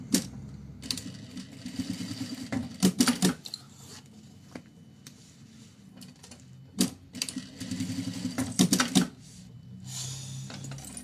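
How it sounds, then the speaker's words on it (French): A home sewing machine stitches fabric 5 mm from the edge in short runs, giving a close, rhythmic mechanical rattle in bursts separated by brief pauses and handling clicks. "Et on vient le coudre à 5 mm."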